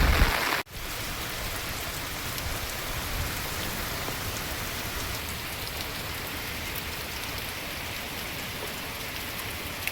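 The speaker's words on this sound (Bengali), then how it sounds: "বৃষ্টি কিন্তু কন্টিনিউ হয়ে যাচ্ছে।" Heavy monsoon rain pours down in a dense, continuous roar on surfaces, steady and close after a brief knock at the start, with no voices.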